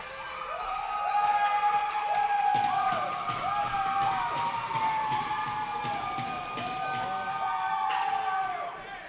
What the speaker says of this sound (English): What a crowd we have here out in front.